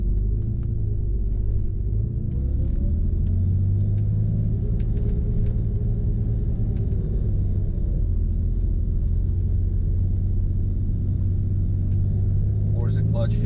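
A 1999 Porsche 911, fresh from an IMS bearing replacement, drives along with a steady low engine and road rumble from inside the cabin, a light sustained drone throughout, with brief clicks and a faint voice near the end.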